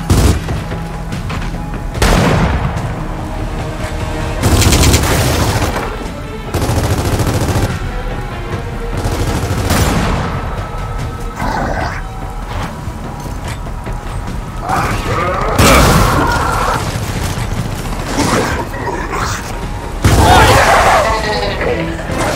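Gunfire and explosions from the video game Gears of War 4, including sniper fire: a loud, continuous run of heavy booming bursts and rattling shots, with several sharp blasts punching through the din.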